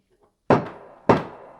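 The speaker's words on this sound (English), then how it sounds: "I'll bang my gavel to that." Wooden gavel banged twice on a hard surface, two loud, close, sharp knocks about half a second apart, each with a short ringing decay, in an otherwise quiet room.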